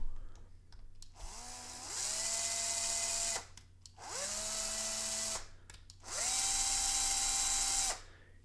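A cordless power screwdriver backs screws out of a washing machine panel during appliance repair, whirring in three sustained bursts with rising pitch at each start, separated by short pauses and clicks, no talking.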